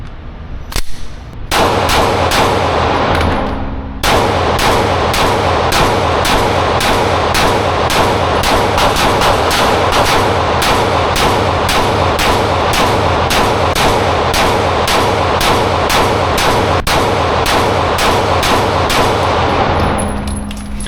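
A Glock 19 handgun is fired in long rapid strings of loud, sharp shots, close and echoing, with a short pause near the start and no talking.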